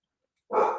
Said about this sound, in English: That was just my dogs.